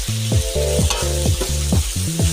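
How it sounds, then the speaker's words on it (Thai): Pork stir-fries with ginger in a hot pan, giving a loud, steady sizzle broken by rhythmic scraping strokes of a spatula, about two per second, close up and with no voices. "ส่ขิงลงไปหอมหอม ผัดให้หอ มแล้วหมูสุกแล้ว"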